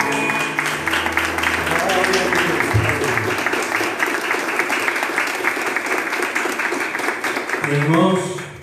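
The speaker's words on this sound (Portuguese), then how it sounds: "Então, aplauda ao Senhor." A church congregation applauds during a communion service, a steady, dense wash of clapping that fills the space for several seconds and tapers at the end, with voices mixed in.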